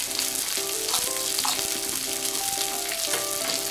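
Meat sizzling and frying on a home tabletop yakiniku grill, a steady close crackling hiss that runs throughout, with small pops and faint clinks over it.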